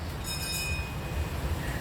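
The Key West Conch Train tour tram rolls along the streets of Key West, Florida, giving a steady low rumble with a brief high metallic squeal near the start.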